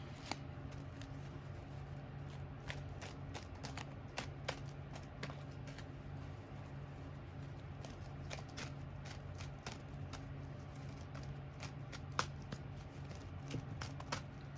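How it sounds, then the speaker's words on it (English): Soft, repeated tarot card handling: quick flicks and slides of cards at an uneven pace, quiet and close, with a low room hum beneath. "Let's pull some more cards here."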